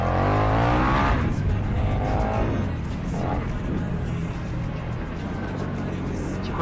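KTM Superduke 1290R motorcycle engine holding a loud, steady high-rpm roar on damp asphalt, the pitch easing off from about 4500 rpm as the throttle is released, close and continuous with no talking.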